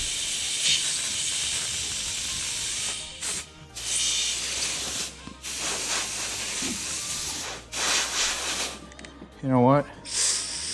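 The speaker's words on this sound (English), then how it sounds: "So hopefully these will work too with the air compressor" Air compressor blowing air through an extra-long nozzle while working on a Ski-Doo Rev snowmobile, bursts of loud hiss that stop and start again, with brief talk and a squeaky sound near the end.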